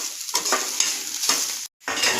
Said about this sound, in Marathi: कांदा असाच परतत राहायचंय, व्यवस्थित भाजून घ्यायचंय.